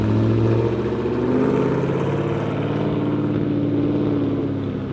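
A car pulls away hard from a Cars and Coffee meet in Roxboro, its engine note rising steadily and staying loud and close for the whole stretch, with no talk over it.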